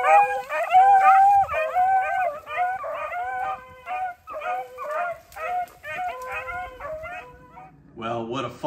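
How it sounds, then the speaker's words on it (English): A pack of hunting dogs bays and howls while chasing a wild rabbit through the woods, with overlapping, rising and falling voices close by in steady bursts and a louder jumble of cries at the end. "There's nothing like hearing them dogs running through the woods, chasing a rabbit."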